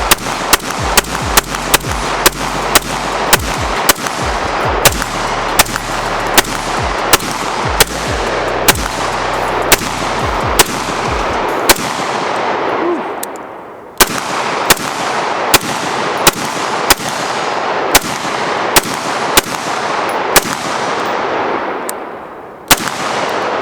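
An ultralight AR-15 rifle empties a 40-round magazine in rapid semi-automatic shots, loud sharp cracks with a few short pauses between strings, close to the listener.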